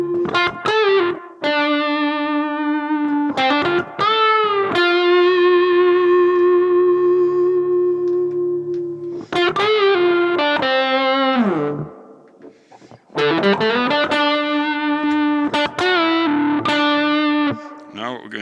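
Heavily distorted electric guitar chords through a BOSS GT-1000 Core amp modeler on a Mesa Boogie combo model, gain high and tone rolled off, ring out loud and sustained, strummed in several bursts with long decaying notes between.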